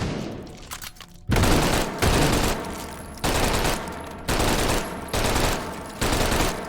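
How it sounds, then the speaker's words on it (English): An MP 3008 submachine gun fires in the H3VR video game, firing in six loud sustained bursts, each a dense rattle lasting under a second, separated by brief pauses, with no talking. "Like how I'm firing plus P out of this too"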